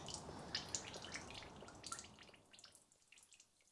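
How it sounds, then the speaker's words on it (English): Engine oil draining from the sump of a 2013 Ford Transit Custom 2.2 diesel van, a quiet, steady trickle with faint drips and splashes that slowly fades toward the end, heard alone. "I'll just let that trickle away for a little while"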